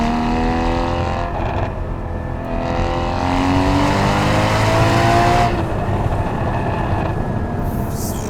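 A Porsche Cayman 981 GT4 on public roads, its engine droning loud and close as the pitch rises and falls through gear changes, with steady road and wind noise and no talking.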